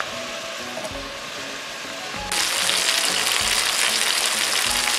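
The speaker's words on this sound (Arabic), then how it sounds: "ضفنا الزيت في طاسة تانية، وهنضيف الفراخ" Chicken frying in oil in a second pan while making Chinese-style chicken with vegetables: a steady broadband sizzle that jumps suddenly louder midway, as if the chicken hits the hot oil, then crackles on evenly with a faint background hum.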